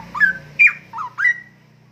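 A three-year-old straw-headed bulbul (cucak rowo) sings up close and loud, four bright, rich whistled phrases with rising and falling notes, separated by short pauses.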